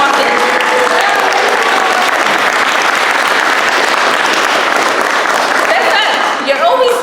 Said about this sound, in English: Let's give Cesar a big round of applause because he walked in.